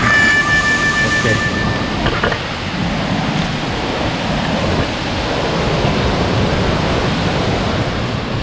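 Krok I Dok waterfall in Khao Yai National Park, its third tier, roars as a loud, steady rush of falling water, with a faint high tone at the start.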